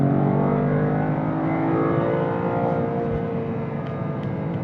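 A 2025 Toyota GR Corolla with the 8-speed automatic, held in manual mode, hums along with its engine revving steadily and climbing gradually in pitch, close and continuous, with a brief deeper thump partway through.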